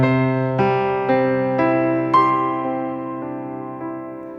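Piano notes ring out one after another in a flowing, wave-like left-hand pattern with hand crossing-over, each new note layering over the sustained ones, close and clear.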